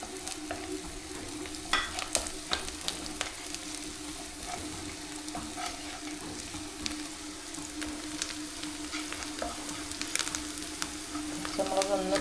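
Sliced onions and two small green chillies frying in oil in a pan and being stirred, a steady soft sizzle with scattered scraping clicks from the spoon, no talking.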